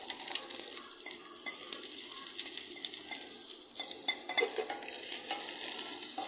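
Onion, grated coconut and dried red chillies frying in a pan give a dense, continuous hiss with frequent crackles and pops, close and fairly loud, with no voices.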